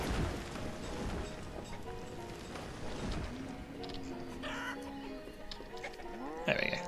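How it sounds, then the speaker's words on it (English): Chickens in the village-building game Banished cluck faintly amid a dense ambient game soundscape, with a few brief bird-like calls near the end and no talking. "look at the tiny chickens"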